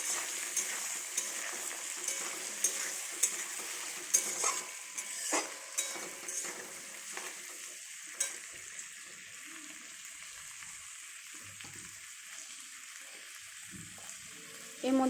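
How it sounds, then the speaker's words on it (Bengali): Tomato, onion and capsicum stir-frying in a pan for chilli chicken, with a steady sizzle and repeated scraping stirs from a utensil that taper off into a quieter simmering hiss, plus a clatter at the end. "পেঁয়াজ আর ক্যাপসিকামটা ভাজা হয়ে গেছে, এর মধ্যে আমি টমেটোটা অ্যাড করলাম।"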